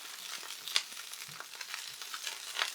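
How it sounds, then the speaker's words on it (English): Onions sizzling in a hot skillet, a soft crackling hiss with scattered small pops and a couple of sharper spits, fairly quiet and steady, no talking. "Our onions go right into the skillet like so."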